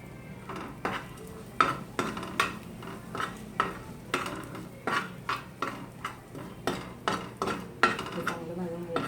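Coconut powder dry-roasting in a pan for spicy masala shev bhaji, with a steady run of sharp utensil scrapes and clinks against the metal pan, repeating every half second or so, close and fairly quiet.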